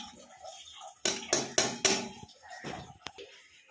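Boiled potatoes are mashed in a bowl with chopped onion and green chilli for onion bora, giving four quick, close knocks and squelches, then a couple of softer taps.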